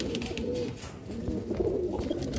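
Saharanpuri Kalsera pigeons coo at a bird sale in Lucknow, with soft, rolling low calls repeating close by amid a busy flock background.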